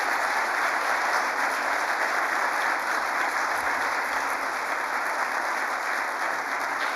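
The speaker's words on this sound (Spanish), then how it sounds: "un fuerte aplauso" A conference audience at the Ateneo de Madrid gives sustained applause for Solaria's 20th anniversary, a continuous, evenly textured clapping from many hands that stays loud and steady throughout.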